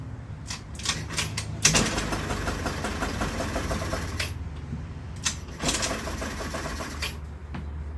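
A small two-stroke Yerf-Dog go-kart engine, apparently starved of fuel, sputters to life after pull attempts and runs in a rapid, rattling putter before faltering, close by, with sharp tugs and knocks around it.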